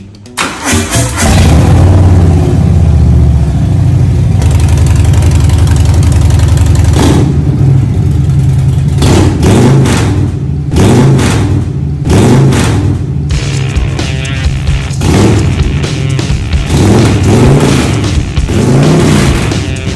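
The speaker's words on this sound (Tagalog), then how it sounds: "Eto ang tunog ng Harley." A Harley-Davidson motorcycle engine sputters to life and settles into a loud, throbbing idle with a deep uneven rumble, blipped up a few times near the end.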